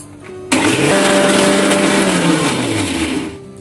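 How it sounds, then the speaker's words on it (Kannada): Mixer grinder blending a mango and milk pudding mixture, a loud steady whirring motor that starts abruptly, runs for about three seconds, then winds down. "ಮಿಕ್ಸಿ ಮಾಡ್ಕೊಳ್ಳೋಣ."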